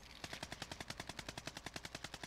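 Rapid automatic gunfire from a video game rattles in a fast, even burst of about twenty shots over roughly two seconds, fairly faint, with no talking.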